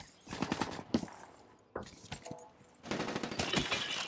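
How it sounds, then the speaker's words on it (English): Rapid gunfire bursts from Call of Duty: Black Ops 3 multiplayer, sharp cracking shots in clustered volleys with brief gaps, loud and close, faint voice chatter underneath. "I accidentally shot that guy in the back of the head"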